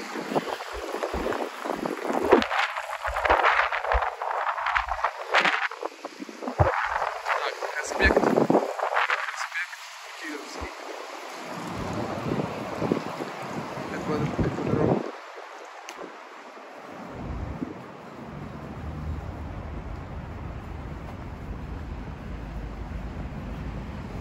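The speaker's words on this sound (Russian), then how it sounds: "Ой, ветер." Gusty wind buffets the microphone with a low rumbling roar throughout on a street in Rostov-on-Don, while people talk over it in the first half.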